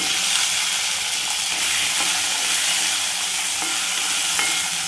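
Dal, garlic and shallots fry in oil for curry leaf gravy, giving a steady, dense sizzle and hiss close by with faint stirring scrapes throughout and no speech.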